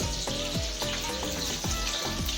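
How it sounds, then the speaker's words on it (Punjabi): Amla, Indian gooseberries, roasting in mustard oil for pickle, with a steady close sizzle and soft clinks of stirring repeating roughly every half second, while faint music plays in the background. "ਆਉਲਿਆਂ ਨੂੰ ਸਰੋਂ ਦੇ ਤੇਲ ਵਿੱਚ ਭੁੰਨਿਆ ਜਾ ਰਿਹਾ"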